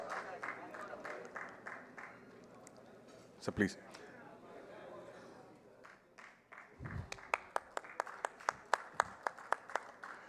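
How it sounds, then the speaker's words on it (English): Audience at a formal professional session applauds, with scattered claps growing into a quicker, sharper burst toward the end; a voice speaks briefly during the clapping. "A big round of applause."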